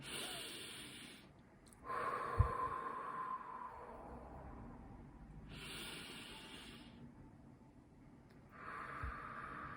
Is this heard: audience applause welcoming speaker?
no